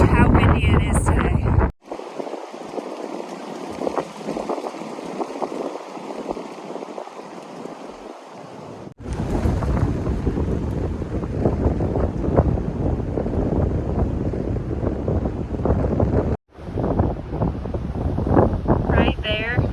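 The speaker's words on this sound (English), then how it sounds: "Take a look at this tree and its roots so you can gauge how windy it is today." Strong wind buffets the microphone in heavy gusts on the Appalachian Trail, loud and continuous, with abrupt cuts between segments and voices under it.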